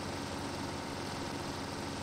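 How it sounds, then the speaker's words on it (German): A moped scooter engine in the game The Long Drive runs with a steady, dense buzzing drone at a constant faint level, a continuous hum with no breaks or revving changes. "Hier, Mofa-Motor."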